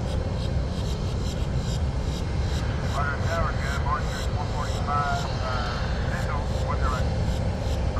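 JetBlue jet airliner inbound from Jacksonville, approaching to land at Fort Lauderdale–Hollywood International Airport, gives a steady broadband engine roar throughout, with someone talking over it.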